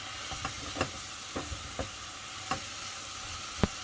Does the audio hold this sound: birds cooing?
no